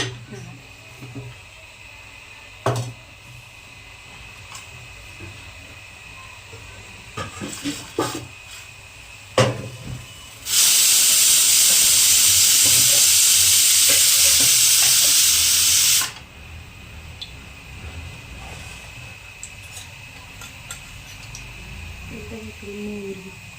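Tempering spices hit hot oil for idli in a home kitchen, a loud broadband sizzle bursting in mid-clip for several seconds and then cutting off, with scattered clinks, stirring and soft kitchen handling before and after.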